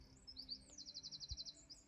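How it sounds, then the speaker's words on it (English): A small bird chirps outdoors in a rapid, repeated series of high tweets, faint and distant, heard through a quiet indoor room. "can you hear that bird outside?"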